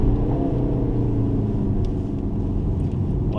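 VW Golf R engine accelerating hard on a race track, a loud, steady close-up roar with dense low rumble that holds continuously at full throttle throughout.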